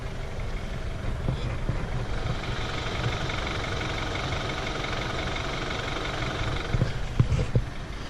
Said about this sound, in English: It sounds like a rattle slash diesel slash whatever you want to call it.